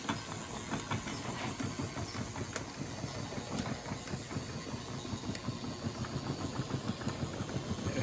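A Lionel postwar toy train runs on its track with a continuous mechanical whir and hiss, a faint rapid clicking threaded through a steady motor hum.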